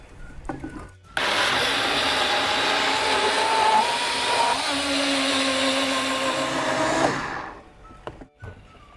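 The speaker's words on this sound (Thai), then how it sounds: "เดี๋ยวผมจะนำน้ำปั่นเนี่ยนำมาแบ่งปั่นกับถั่วเหลืองก่อนนะครับ ปิดฝาปั่นเลยครับ" A blender grinds soybeans with water for soy milk, starting abruptly and running as a loud, steady whirring roar for about six seconds before winding down, with quieter handling sounds before and after.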